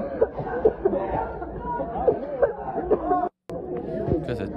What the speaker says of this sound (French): là, ça tousse parce qu'il y a des gaz